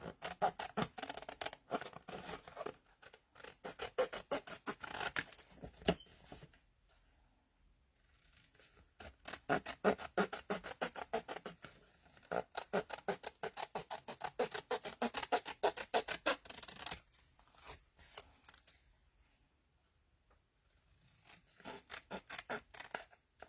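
A hand-cranked die-cutting machine presses paper through Tim Holtz dies in bursts of rapid close ratcheting clicks. Quiet pauses separate the runs, and nobody speaks.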